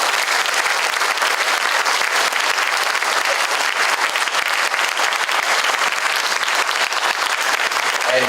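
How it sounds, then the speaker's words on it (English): A concert audience at a spring band performance gives a sustained round of applause, loud, even and dense throughout, with only faint voices mixed into the clapping. "Let's give them another round of applause"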